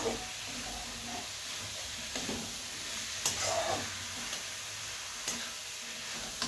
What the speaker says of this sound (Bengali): এবার চিকেন কিমাগুলো দিয়ে আলুর সঙ্গে ভালোভাবে আমি কিন্তু মেরে ছেড়ে দেবো